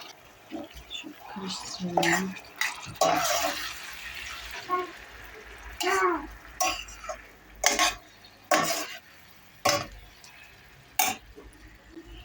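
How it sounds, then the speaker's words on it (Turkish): Tomatoes tumble into a pan of peppers, followed by repeated scraping and stirring strokes in short bursts, with some sizzling and clinking nearby. "biberlerimi çok öldürmeden domateslerimi de ekliyorum"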